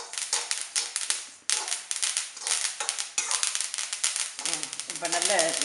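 Dense, rapid crackling and popping of black sesame seeds roasting in a dry pan for sweet sesame balls, loud and close, continuing steadily throughout.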